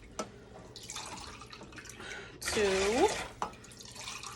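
Filtered water poured from a cup onto a peace lily, a brief splashing trickle that rises in pitch as it fills, heard close alongside a counting voice.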